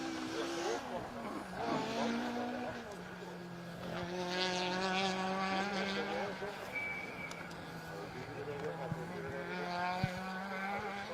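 A BDA-engined Ford Escort Mark 1 rally car drives a special stage at Rally Wervik 2022, engine revving up and down through gear changes at moderate distance, with voices talking over it.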